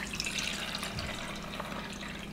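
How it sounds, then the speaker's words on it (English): Turkey juice is poured over the edge of a fat separator strainer in a kitchen, making a continuous, soft splashing trickle with no talking. "So I'm going to just pour this in."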